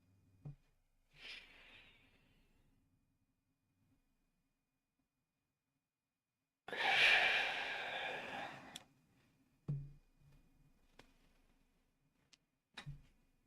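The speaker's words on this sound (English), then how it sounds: "Inhale one last time." One long, deep breath during a guided meditation: a short soft intake, then a breathy rush of air lasting about two seconds, close and fairly loud, with quiet pauses and a few small clicks around it.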